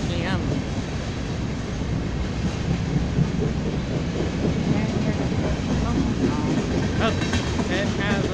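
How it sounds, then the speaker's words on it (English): BNSF freight train rolling past southbound on the track, a steady loud rumble with clattering wheels and screeching rail noise through the whole pass, close by. "There's a green light for a train going southbound on track 1."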